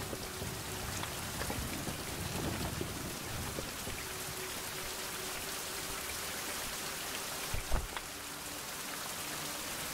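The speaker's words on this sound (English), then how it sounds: "Now is a real thunder." Steady rain and a thunderstorm in the survival game Fountain of Youth, with a continuous hiss of rainfall on surfaces and a sharp, close thunder crack near the end, no talking over it.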